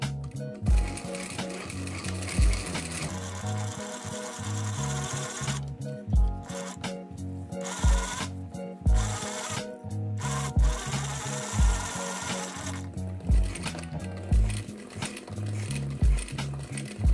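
A sewing machine stitching vegan leather pants runs in steady, rhythmic bursts with a pulsing mechanical whir. It pauses briefly a few times and continues throughout, close and fairly loud, with no talk.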